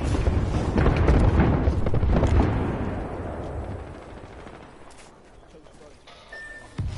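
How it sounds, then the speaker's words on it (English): A heavy explosion booms from a grenade in a console shooter game, loud and rumbling before decaying over several seconds into quieter background noise. "Look out, grenade."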